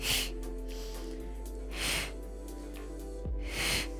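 A person doing standing Pilates breathes in three cycles, each a quick inhale followed by a long, forceful, hissing exhalation, up close over faint background music.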